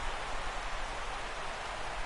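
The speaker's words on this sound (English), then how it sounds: "Rain falling here at game time as it's time for baseball at Petco Park in San Diego." Steady rain hisses evenly over Petco Park in San Diego in the baseball game MLB The Show 17, a continuous wash with no distinct drops.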